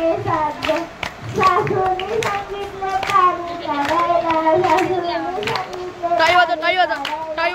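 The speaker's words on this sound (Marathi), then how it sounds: "टाळी वाजव, टाळी वाजव" Children clap their hands in rhythm while singing and chanting along; sharp claps punctuate the sung voices throughout, during a weekly children's class at a Swami Samarth guru math.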